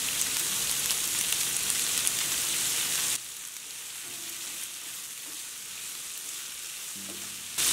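Onions sautéing in a pan over a medium flame, a steady loud frying hiss for a few seconds that drops suddenly to a softer sizzle, with faint clinks near the end and no talking.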